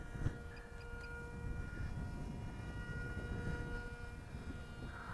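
A scratchbuilt F-16 XL radio-controlled model jet flies overhead, giving a steady, moderately distant whine and whir that holds evenly through the stretch against outdoor background noise.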